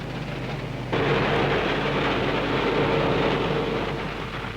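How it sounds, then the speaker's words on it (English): Coal train wagons rumble along the rails on a merry-go-round line running between pit heads and power stations, a dense, loud, continuous roar that swells abruptly after the first second and holds steady without talk. "The merry-go-round system enables coal trains to circulate without stopping from pit heads to nearby power stations"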